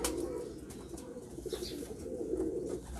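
A pigeon coos softly and close by in a low, throaty murmur, with faint background noise and no speech.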